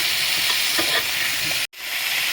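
Chicken, quartered onions and vegetables sizzle and fry steadily in a pan while being stirred, with a constant hiss and a brief dropout near the end.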